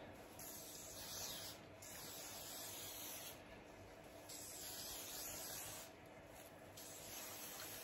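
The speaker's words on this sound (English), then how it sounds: "I'm going to spray it." Hair spray misted over finished knotless braids in a series of steady hissing bursts with short pauses between them, fairly faint and with no talking.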